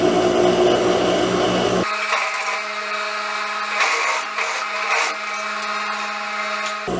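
A sewing machine stitching a dart on a lined skirt, a steady close mechanical hum with a low drone running alone for several seconds after a brief rougher start.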